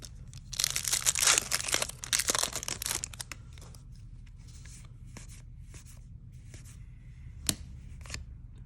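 A Magic: The Gathering Scourge booster pack is torn open with close, crinkly foil tearing and rustling at first, followed by softer sporadic card shuffling and handling, with one sharp snap near the end.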